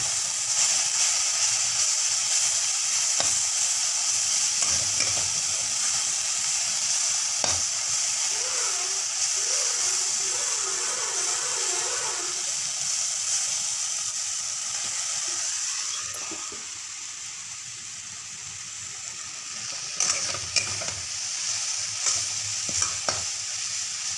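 Chili, onion and garlic fry in a pan with a steady, loud sizzle and hiss, and stirring adds occasional scraping, continuous and close throughout.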